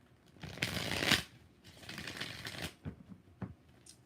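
A deck of tarot cards is shuffled close by in several quick riffling bursts, rustling and flapping with brief pauses between, fairly quiet and with no talking.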